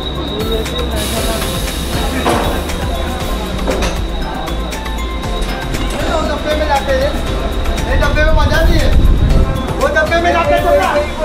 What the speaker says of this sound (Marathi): आता आमची ट्रेन आलेली आहे वाशिमची.